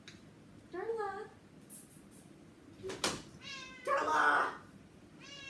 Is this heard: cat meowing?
yes